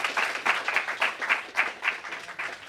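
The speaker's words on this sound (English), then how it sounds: "Please give him a huge round of applause." Audience at a 71st Republic Day celebration applauding a motivational speaker, steady clapping from a crowd at moderate volume with a regular rhythm throughout.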